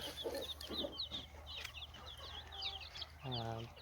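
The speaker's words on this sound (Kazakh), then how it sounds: "Мына жерде бізде жаңадан шыққан балапандар" Many small newly hatched chicks cheep in rapid high peeps close by in a chicken coop, with a hen clucking low near the end.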